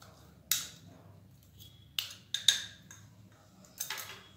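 Ground sugar being stirred into a laddu mixture in a kitchen, with a few sharp clinks and scrapes of a utensil against a bowl spaced irregularly over quiet background, one cluster of taps near the end.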